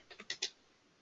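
Four quick, close keystrokes tap on a computer keyboard while SAS macro code is typed, followed by a short quiet tail.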